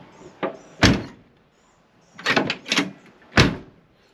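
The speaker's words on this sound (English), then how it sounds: "Door's closed tight." A 1974 Chevrolet Caprice car door swings and shuts with solid thunks, several heavy closing impacts spread over a few seconds, fairly close in an outdoor car show setting.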